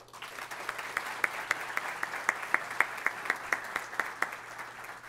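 Audience applause at a Spanish-language sports management talk, a steady wash of many hands clapping with sharper individual claps standing out, moderately loud and continuous for about five seconds with no speech.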